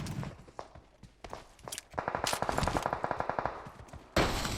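Automatic gunfire in PUBG Mobile rattles off in quick rhythmic bursts mixed with footsteps, the shots growing denser and louder midway and ending on a sharp close blast.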